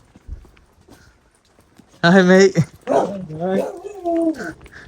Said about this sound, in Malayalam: നല്ല നല്ല നാടൻ പട്ടി, മുതലാളിനനുസരിക്കാത്ത പട്ടി